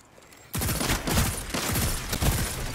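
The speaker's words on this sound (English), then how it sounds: "I don't quite like being shot at." Rapid bursts of gunfire in the video game Destiny 2 erupt after a half-second lull, continuous and loud with repeated sharp volleys and no talk over them.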